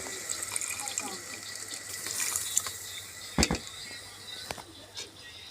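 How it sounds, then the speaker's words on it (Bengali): Water poured steadily into a cooking pot for a curry of small river fish, a soft, continuous splashing rush with a few sharper clinks and knocks near the middle. "পানি দিচ্ছি পরিমাণ মতো।"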